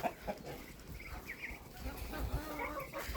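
Hens, bantams among them, cluck softly in a farmyard pen, quiet scattered calls over low background rustling.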